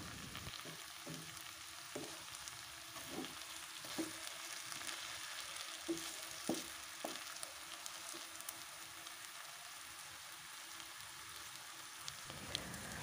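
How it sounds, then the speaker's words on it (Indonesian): Sweet soy sauce bubbles and sizzles in a hot pan with noodles, a steady hiss with scattered soft pops and light stirring taps, close and continuous with no talking. "Ini dibiarkan beberapa saat sampai kecap manis mendidih."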